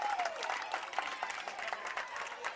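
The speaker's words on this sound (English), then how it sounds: "The Harris County crowd takes their advantage to make some noise" Harris County softball fans cheer and clap from the stands, a distant, faint crowd noise with scattered claps and whoops that stays steady and fairly quiet.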